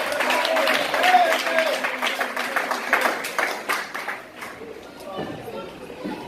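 A church congregation applauds at a French-language worship service, a burst of clapping and cheering mixed with voices that thins into scattered claps and chatter toward the end.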